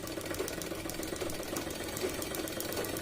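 A sewing machine stitching a blouse runs in a continuous, even mechanical whir with a fast regular pulse, close and moderately quiet, with no talking.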